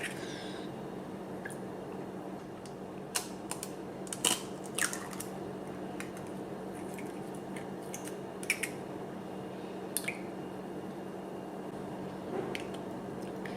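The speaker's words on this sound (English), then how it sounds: "I usually break them in a separate cup before mixing them together" Eggs cracked one after another into a separate cup in a home kitchen, a series of brief sharp cracks and soft wet squishes scattered over low background hum, no talking.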